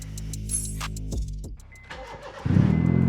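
A modified car engine idles with a low throb, then catches and revs up sharply into a loud, rough roar near the end.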